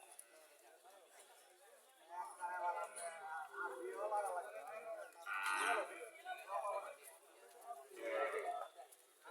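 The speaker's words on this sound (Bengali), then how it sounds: "এখানে আরো একটা দেশি গাভি, দেখা যাইতেছে" A local deshi cow at a bustling cattle market lets out several drawn-out, faint moos, with people talking around it.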